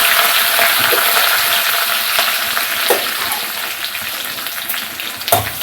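Cumin seeds, curry leaves and asafoetida sizzling in hot oil for a Tamil buttermilk curry, with a steady, loud frying hiss throughout and occasional louder crackles and pops.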